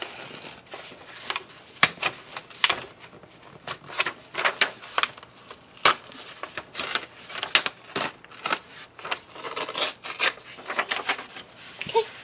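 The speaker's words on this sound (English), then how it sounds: "I'm just going to take a minute and rip out my pages" Scrapbook album pages are torn out by hand to make December Daily dividers, a series of close, irregular paper ripping and crinkling bursts with brief pauses between them, quiet in level and with no speech.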